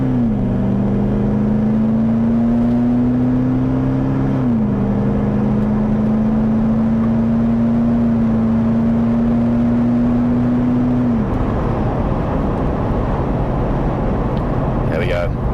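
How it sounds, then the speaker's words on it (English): A car pulling away from a stop and accelerating hard up to 100 km/h, its engine note rising steadily with a gear change partway and then fading into road and wind roar, loud and close from inside the cabin. "foot straight onto the accelerator. Come to a stop. And then straight up to 100 km/h."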